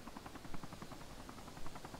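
A helicopter in DayZ, a low, steady rhythmic rotor thump that pulses evenly throughout at moderate to faint distance, with no voices.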